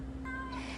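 A yard cat kept at a home in Mexico gives a single clear, close meow, steady and drawn out, with no talking around it.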